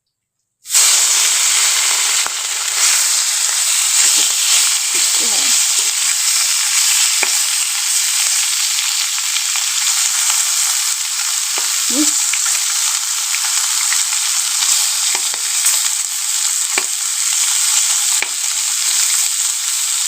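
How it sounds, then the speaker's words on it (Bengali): Amedi fish rubbed with salt and turmeric fry in hot oil in a village kitchen wok, a loud, dense, unbroken sizzle that starts suddenly and holds steady for the whole stretch, with occasional faint clinks of a spatula. "লবণ হলুদ মাখিয়ে নিয়েছি, কড়াতে তেল দিয়েছি, গরম হয়ে গেছে। মাছগুলো এখন ভেজে নিই।"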